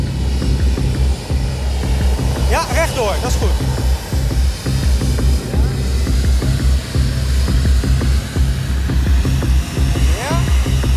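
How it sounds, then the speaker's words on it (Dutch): An airplane taxis slowly to its parking spot at an airport under a marshaller's guidance, its engines droning loud and steady throughout while people talk over it. "Ik heb gewoon een vliegtuig geparkeerd."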